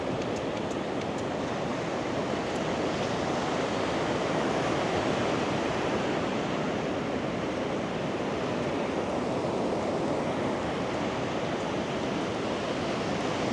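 Ocean surf washes onto the beach at My An in Da Nang, Vietnam, as a steady, even roar of breaking waves that holds at one level throughout, with no voices.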